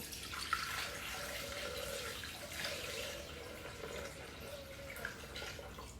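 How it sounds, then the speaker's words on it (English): Water pours steadily into a Thermomix mixer jug in a continuous, faint splashing stream, with no voices. "And then just going to add the water. So in it goes."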